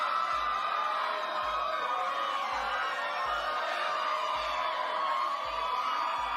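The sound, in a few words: audience applause and cheering at awards ceremony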